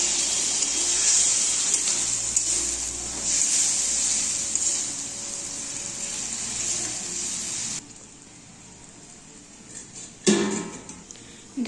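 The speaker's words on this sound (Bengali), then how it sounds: "জল দিয়ে ঢেকে দিচ্ছি সবজিগুলো সেদ্ধ হওয়ার জন্য।" Water runs steadily from a tap or jug into a pan of winter vegetables for boiling, a broad hiss that fills most of the stretch, then cuts off and leaves a brief splash near the end.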